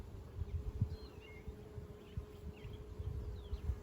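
Honeybees from a caught swarm, now a split hive, hum faintly around an open hive box outdoors, a low, steady buzz with soft flits of passing insects.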